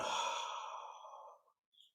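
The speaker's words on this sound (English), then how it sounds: "Big yawn." A person lets out a single long, breathy yawn that trails off softly over about a second and a half, close and quiet, during a meditation session.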